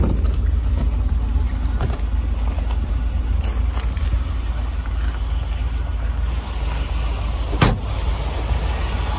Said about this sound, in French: un V8 de Chevrolet, un moteur indestructible, super costaud, éprouvé